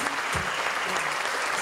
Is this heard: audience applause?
yes